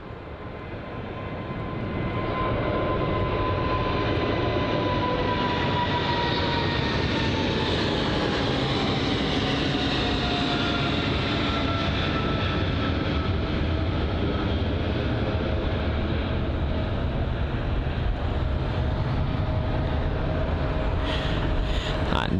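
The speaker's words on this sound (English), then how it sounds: "It's the American Airlines Boeing 777-300 with a go around." An American Airlines Boeing 777-300 jet roars loud and steady during a go-around at Heathrow, its engine noise swelling over the first few seconds, then holding as a sustained broadband rumble with a slowly shifting whine.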